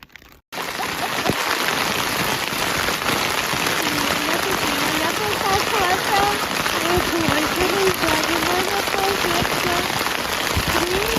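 Steady rain pattering on the water and on kayak rain gear during a kayak trip on the Nemunas river, a loud continuous wash of drops that starts abruptly after a brief quiet moment, with faint voices underneath.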